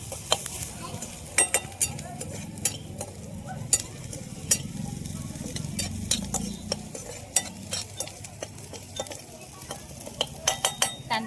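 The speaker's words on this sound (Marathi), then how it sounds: "सोनेरी कलर येईपर्यंत कांदा भाजून घेऊ" Onions frying in a pan for a chicken curry with dill, stirred steadily so a spoon ticks and scrapes against the pan in quick irregular clicks over a soft continuous sizzle.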